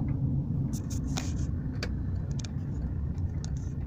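A car driving along a residential street, a steady low road and engine rumble with a few faint higher clicks and rattles from inside the cabin, no talking.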